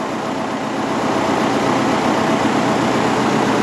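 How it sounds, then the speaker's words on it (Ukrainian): An MTZ 952 tractor engine idles steadily, a dense, even rumble close by with no change in pace and no speech over it. "Сразу його завели, то зразу почувствувався ефект ну, другої роботи трактора."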